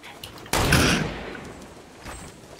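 A sharp sniper rifle shot cracks out in a Fortnite Battle Royale firefight, one loud close blast that decays slowly into a faint rumble, with no voices over it.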